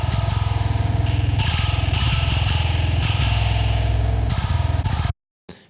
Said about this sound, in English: If you can turn on the distortion again